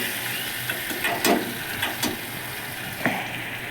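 Bottle gourd curry with cumin sizzles and fries steadily in a pan as a little water is added, with a few sharp scraping stir clicks over the constant close hiss.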